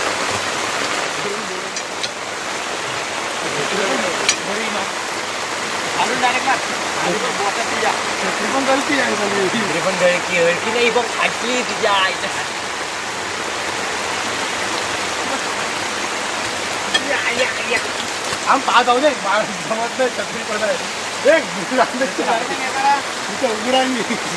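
Heavy rain roars continuously in a thick, steady wash, with faint voices talking underneath at times.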